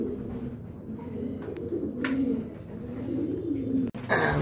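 Racing pigeons coo steadily in a loft, soft throaty calls rolling on and overlapping, with a few faint chirps and brief knocks in the background.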